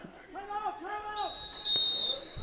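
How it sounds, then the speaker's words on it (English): A referee's whistle at a high school football game between Cashton and Hillsboro, a shrill blast cutting through after a few short trills, over distant crowd murmur and a commentator's voice. "Whistle's blown."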